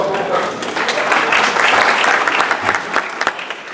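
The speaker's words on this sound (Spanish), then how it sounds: "Nuevamente seguimos con el aplauso." Sustained applause rises from an audience at a law lecture held by the Lima Bar Association, a loud, dense wash of clapping that swells in the middle and stays steady to the end.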